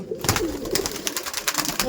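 Madrasi pigeons cooing in brief low throaty bursts at close range, mixed with fluttering and some background voice activity.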